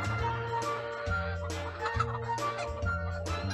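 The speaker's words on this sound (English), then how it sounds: "No, it's a real chicken." Hens on a chicken farm cluck steadily and close by, layered with overlapping calls from several birds in a continuous, busy flock chorus without talk.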